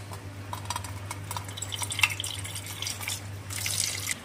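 Water runs and splashes for soaking food in a kitchen, a steady trickle with small drips and a brighter gush near the end, with a low hum underneath.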